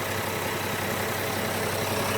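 An Isuzu 6UZ1 diesel engine in a 10-wheeler wing van truck idles steadily, a constant loud rumble with no voices.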